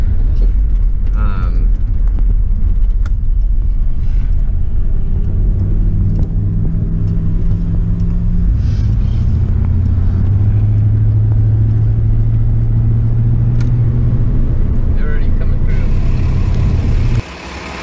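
A car's engine rumbles low and steady up close as it pulls up and parks, with voices talking over it, before the motor cuts off abruptly near the end.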